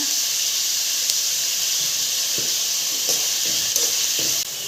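Green chillies and curry leaves frying in hot oil for a vada curry to go with set dosai, giving a loud, steady sizzle and hiss with a few soft clicks of stirring throughout.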